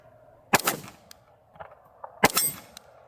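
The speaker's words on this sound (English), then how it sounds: "Take a couple shots." Two sharp Glock pistol gunshots crack out at a shooting range about two seconds apart, each loud and close with a brief ringing tail, and faint clinks in between.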